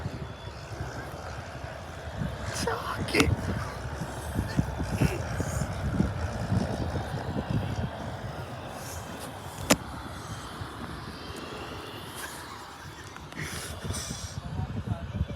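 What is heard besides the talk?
RAF Chinook helicopter landing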